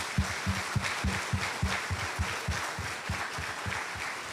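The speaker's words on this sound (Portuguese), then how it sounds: "Reverentemente, uma salva de palmas." A church congregation claps at a solemn evening service, a dense run of quick, evenly spaced handclaps, loud and close, holding its pace for several seconds with no voices over it.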